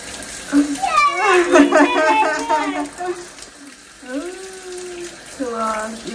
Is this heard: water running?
yes